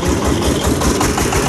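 A tractor engine idles outdoors, a loud, steady low rumble with a faint knocking pulse, close by and continuous, with no talk.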